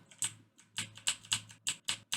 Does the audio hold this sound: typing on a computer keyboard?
yes